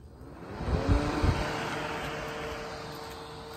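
A DeWalt 20V battery-powered fan blowing outdoors near a boat trailer, giving a steady broadband whoosh of airflow with a faint hum, after two soft low thumps near the start.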